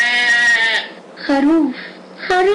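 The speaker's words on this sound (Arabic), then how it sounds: "خروف خروف خروف خروف خروف خروف خروف خروف" Three loud, close sheep bleats ring out one after another with short pauses between them, wavering and nasal, sounding clearly on their own against silence.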